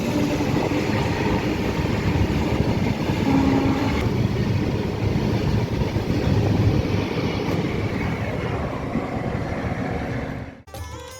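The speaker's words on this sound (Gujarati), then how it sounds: "આપણે સાણંદ રેલવે સ્ટેશન સ્કીપ કરી રહ્યા છીએ એટલે કે આપણે ટ્રેન અહીં રોકાશે નહીં." A train runs at steady speed through Sanand railway station without stopping, a continuous loud rumble and rattle of wheels and carriages throughout, with a brief dip and shift near the end.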